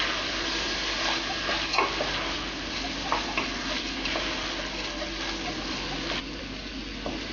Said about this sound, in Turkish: Yaklaşık 5 dakika kadar kavuruyoruz